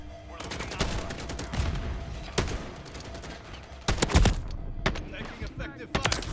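Gunfire in Call of Duty multiplayer crackles in rapid bursts, with automatic rifle volleys and scattered single shots, some close and loud, others more distant, while game voice lines and players talk intermittently over the action.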